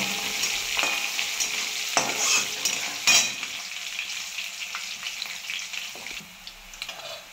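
Lemon rice ingredients sautéing in a pan make a steady, close sizzle with stirring scrapes and occasional clinks across the whole stretch, with no talk over it.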